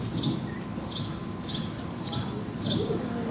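A human voice imitating a sparrow's chirp, five short high chirps evenly spaced about every half second over a low background murmur.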